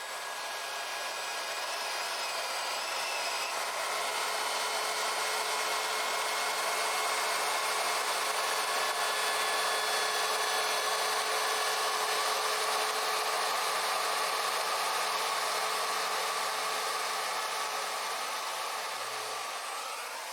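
A handheld router cuts a round-over profile along a wooden furniture edge, a steady high-pitched whine held close and loud for the whole stretch, with no talking.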